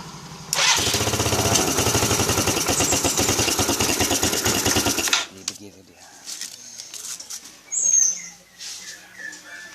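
Electric starter of a Yamaha Mio Sporty scooter cranks the engine with the ignition off, a loud, steady rhythmic whirring for about five seconds that does not catch, followed by quieter clicks and handling noises.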